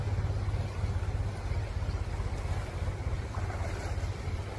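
Knee-deep floodwater rushes through a peanut field, a continuous churning roar with heavy low rumble and wind buffeting the microphone, steady and close with no voices.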